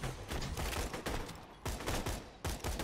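Gunfire in the PC shooter Borderlands 2, rapid rattling bursts of shots in quick succession with brief pauses between volleys, fairly close and dense, with no talk.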